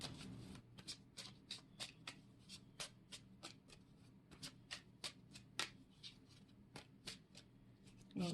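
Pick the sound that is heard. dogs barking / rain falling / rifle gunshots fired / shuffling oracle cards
shuffling oracle cards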